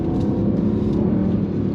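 Mercedes E63 AMG-S V8 with all-wheel drive accelerating hard, a loud, steady engine roar from inside the car with no voices.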